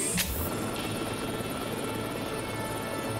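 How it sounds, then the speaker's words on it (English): A cartoon robot turns itself into a helicopter, its steady rotor buzz and engine hum running loud and continuous throughout, with a brief whoosh near the start. "Transforming himself into a helicopter."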